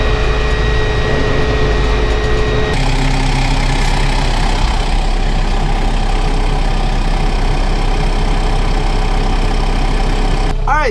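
A tractor engine runs steadily while pulling a hay mower through a grass hay field, a loud, constant mechanical drone that shifts in tone a few seconds in and continues without voices.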